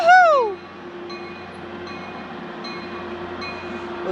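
A Caltrain commuter train passes Burlingame station, opening with a loud horn blast that slides down in pitch, then settling into a steady rolling rumble with faint periodic clicks of wheels on rail.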